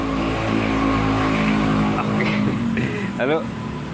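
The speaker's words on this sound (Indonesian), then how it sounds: "karena di pinggir jalan jadi berisik" Roadside traffic passing close by, with a loud, continuous engine drone and revving that shifts in pitch as vehicles go past, and someone talking over the noise.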